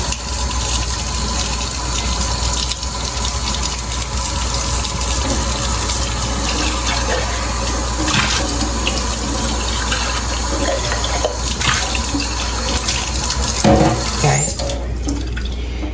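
Tap water runs continuously into a sink to wash algae off air plants, a steady, loud splashing hiss with small shifts as the plants are moved under the stream.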